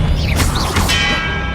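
Expelliarmus disarming spell cast in the Hogwarts Legacy video game, a burst of magical whooshing sweeps and a bright crackle over a rumbling low bed, lasting about a second.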